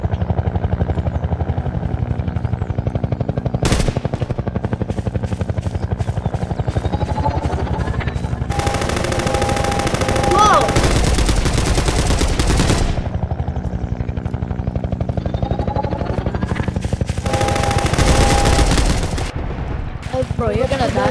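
Bursts of rapid rifle fire from a Galil in Garry's Mod, several loud automatic volleys separated by short pauses over a constant droning game background.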